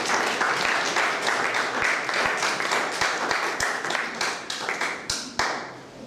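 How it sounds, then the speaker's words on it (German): Sustained audience applause at a German-language art society anniversary event, a dense steady wash of many hands clapping with a few sharper single claps standing out, tapering slightly toward the end. "Danke für diesen reichlich gespendeten und auch verdienten Applaus"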